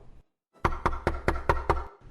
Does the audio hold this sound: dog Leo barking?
no